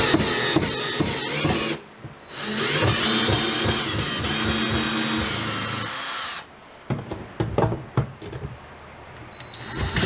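Power drill backing screws out of a panel in a mobile home interior, close and loud whirring that runs for a few seconds, pauses, runs again, then gives way to short scattered bursts.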